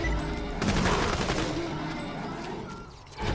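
Vladov guns firing in Borderlands 2: rapid automatic shots pour out in a sustained close stream, briefly easing near the end before another burst kicks in.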